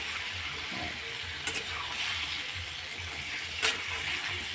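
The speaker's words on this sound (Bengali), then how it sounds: "দিয়ে দিলাম মশলাগুলো কতক্ষণে কষিয়ে নেবো" Ground spices fry in oil in a pan for a papaya and potato curry, giving a steady close sizzle with occasional scraping clinks of a spoon stirring through them.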